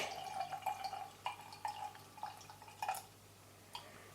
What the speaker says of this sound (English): This glass a bit awkward to hold and pour at the same time.